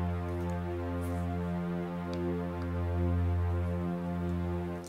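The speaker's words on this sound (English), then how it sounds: "I use EXS strings under factory pop strings," Sampled EXS string basses in Logic Pro hold a sustained octave on a Rick and Morty opening theme arrangement, a steady, rich low drone that continues unbroken with no voices.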